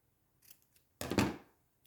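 Scissors snip through paper once in a firm, close cut lasting about half a second, with a few faint rustles before and a small click after, while someone prepares a paper lily-of-the-valley craft.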